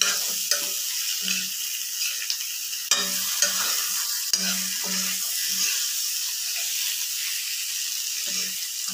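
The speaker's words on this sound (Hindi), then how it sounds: "और इसको खूब हिलाएंगे अच्छे से सब जगह जो कि मसाला लग जाए" Potato pieces coated in spices are stirred in a hot pan with a constant sizzle and hiss, while a utensil scrapes and taps against the metal in irregular bursts, some sharper clicks among them.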